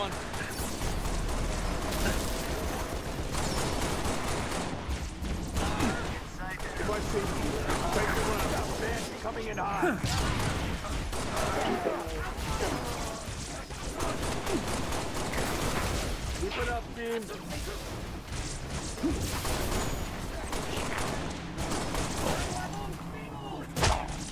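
Dense, continuous gunfire and explosions in the video game Halo: Reach fill the whole stretch, loud and layered with no pauses, with game effects crowding the background.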